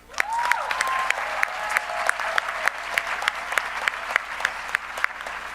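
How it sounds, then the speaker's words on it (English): An audience at a university graduation celebration claps for an honoree, a steady, moderately loud round of applause with crisp distinct claps, and a brief whistle-like tone near the start. "let me ask all of you to give a round of applause to Juanita Benavides Alcalá"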